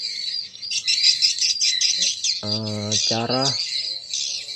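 Swiftlet lure calls in stereo: dense, continuous high chirping and twittering, with two bursts of louder, lower squawking calls in the middle and a brief spoken word at the start.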